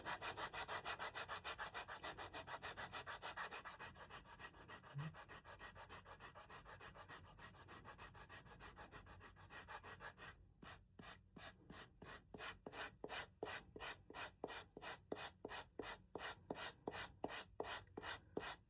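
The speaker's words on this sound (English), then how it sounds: "So just kind of give that a good sanding." Steady rough rubbing of sandpaper on leather, continuous at first, then settling into quick regular back-and-forth strokes.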